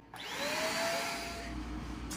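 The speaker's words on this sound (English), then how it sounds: "Okay, this vacuum officially sucks." A vacuum cleaner runs close by with a steady whining drone while cleaning beside a bed, starting abruptly after a brief quiet moment and holding level through to the end.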